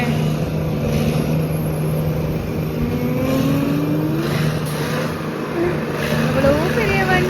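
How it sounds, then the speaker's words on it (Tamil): A big vehicle's engine revs near a wedding shoot in Shivamogga, its pitch sweeping up and down in smooth tones over a steady rumble, with people talking over it. "அவ்வளோ பெரிய வண்டி."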